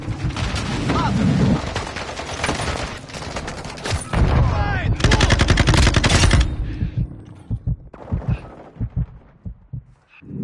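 Rapid automatic gunfire in a Call of Duty multiplayer match, loud rattling bursts and heavy thumping impacts, thinning to scattered single shots with radio-style voices mixed in.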